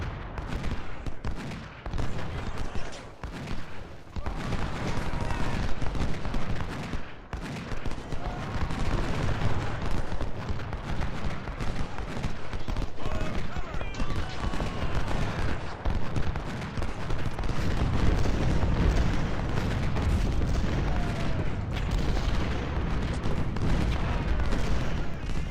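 Civil War artillery and musket fire in Ultimate General: Civil War, a dense, continuous barrage of booms and crackling volleys that runs without pause, with a voice occasionally speaking over it.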